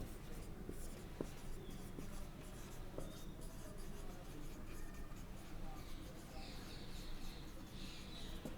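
Chalk or marker scratches across a board during a chemistry lecture on electrocyclic reactions, faint short strokes and taps in a quiet room with a low background hum.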